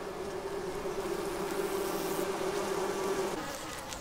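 Steady loud buzzing of a dense swarm of bees, a continuous droning hum with no pauses, close and filling the whole stretch without any talk.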